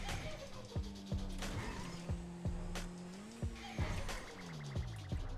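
Car engine revving through gear shifts in the GTA RP video game, a rising pitch under repeated sharp clicks and a faint whistle, with tire noise at moments and no talk.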